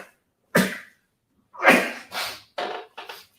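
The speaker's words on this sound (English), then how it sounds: "I'm gonna sneeze." A man sneezes several times in a row, a single sharp sneeze followed after a pause by a quick cluster of four more, loud and close in an otherwise quiet room.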